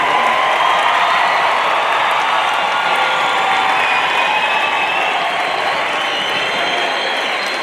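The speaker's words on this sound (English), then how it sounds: "we'll give them a standing ovation and a roarous round of applause" Dense, sustained applause and cheering fill a large hall at a matric results speech, a loud, even wash of clapping from a big audience lasting throughout without letting up.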